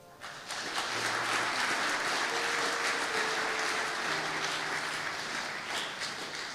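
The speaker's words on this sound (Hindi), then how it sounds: "जरा जोरदार तालियां अपने लिए बजाएं" An audience at a motivational talk breaks into sustained applause, a broad, even wash of clapping that holds steady for several seconds.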